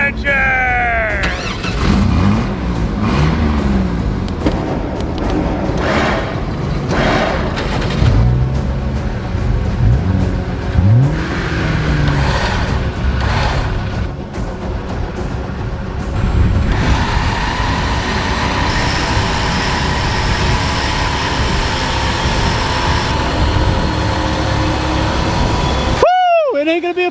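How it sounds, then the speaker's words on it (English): Engines of a Chevy Blazer and a Jeep rev and roar throughout a winch race in the trees, loud and continuous with rising and falling pitch, while people shout and talk over the engine noise. "Winchers, start your engine!"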